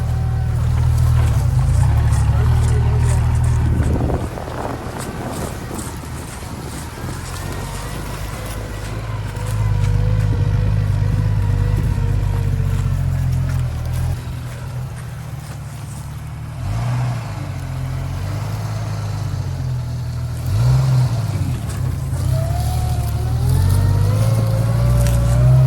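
Jeep TJ rumbles along in second gear with no throttle, a loud, steady low drone that swells and dips as it moves.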